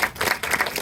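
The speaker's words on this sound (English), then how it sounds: "if you guys would give a special round of applause to this man" Applause from a crowd at a fire safety meeting, a steady burst of many hands clapping at once, fairly loud and continuous with no voices.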